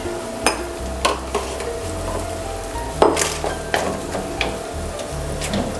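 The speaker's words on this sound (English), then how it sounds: "Stir them and transfer them into a bowl before they get too hard." Eggs fry in a pan while being stirred, a soft sizzle running under scraping and the occasional sharp clink of a utensil against the pan, with no voices.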